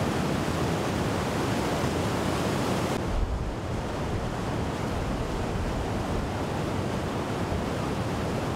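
Rushing river near Dugla, Nepal, on the trail to Everest Base Camp, a loud, steady broadband roar of flowing water that holds throughout, slightly dropping in level partway.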